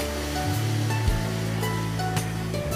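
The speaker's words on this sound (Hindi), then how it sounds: "ये पानी ऐड करके आप इसको सॉफ्ट करिए।" Water pours into roasted semolina in a non-stick pan, giving a loud, steady rushing hiss with a sudden sizzling surge partway through, close up and with no speech.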